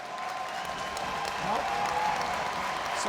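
Ice hockey arena crowd applauding a player returning to his skates, a steady, fairly faint wash of clapping and crowd noise spread across the rink for a few seconds.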